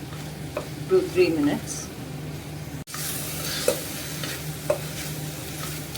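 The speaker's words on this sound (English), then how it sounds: "Saute this for" Vegetables and peas sautéing in a pan for vegetable pulao, with a soft sizzle and occasional stirring clatter under a person talking close by.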